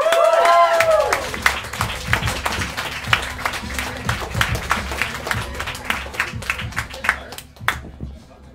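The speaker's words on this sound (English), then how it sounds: "Clap it up for Elon Altman." Audience clapping at a live roast comedy tournament in Manhattan, with crisp individual claps scattered across several seconds, rising and dipping unevenly before tapering off, and some voices mixed in near the start.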